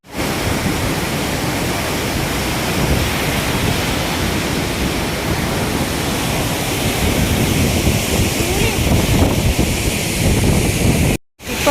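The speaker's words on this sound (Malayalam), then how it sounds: "ഇപ്പോൾ വാട്ടർഫോൾസിൻ്റെ അടുത്താണ് നമ്മൾ നിൽക്കുന്നത്." Athirappilly waterfall in Kerala, running low on water, roars up close as a dense, unbroken wash of rushing water that stays steady and loud throughout, with no voices.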